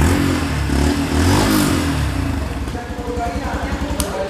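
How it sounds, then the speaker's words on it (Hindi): A 2021 Yamaha FZ-X BS6 motorcycle revs up close, its loud exhaust rising and falling through several throttle blips, then settling into a throbbing, pulsing idle rhythm. "तो गाइस ये है exhaust mode of the FZX।"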